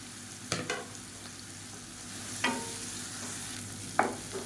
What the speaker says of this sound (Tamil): இப்போ வெங்காயம் ஓரளவுக்கு வதங்கிருச்சு